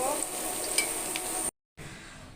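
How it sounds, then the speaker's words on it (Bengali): Bhetki fish pieces fry in a pan with a close, steady sizzle and some stirring, and the sound cuts out briefly before the frying resumes more quietly. "বেগুনগুলি সুন্দর করে ভাজার পরে এখন আমি মাছ ভেজে নিচ্ছি"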